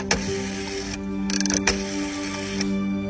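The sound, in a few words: rotary telephone dial being turned at phone booth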